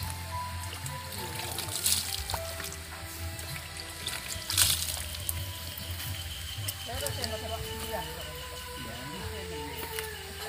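Water trickling and splashing as a ficus bonsai trunk is soaked, a steady close pour with voices talking over it.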